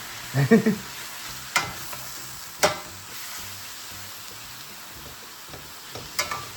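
Steak frying in an under-oiled pan and sticking, a soft sizzle under a few sharp scraping clatters of stirring, with a brief low thud near the start.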